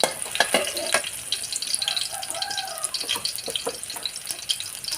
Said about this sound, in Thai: ตามด้วยกระเทียมสับนะคะ ผัดให้กระเทียมหอมสักนิดนึงค่ะ